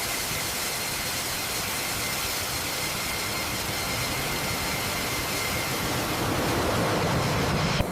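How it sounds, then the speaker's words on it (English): A Mitsubishi fighter jet engine starting: a steady, loud jet roar with strong hiss, holding constant throughout and swelling slightly near the end as the engine spools up. "engine start sequence initiated"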